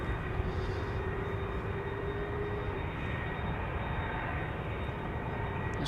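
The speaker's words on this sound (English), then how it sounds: "You can see the A330 is turning in, and you can immediately start hearing its engines." Airbus A330 jet engines at Amsterdam Schiphol Airport as the aircraft turns in, a steady broad roar heard from a distance, holding constant with no voices.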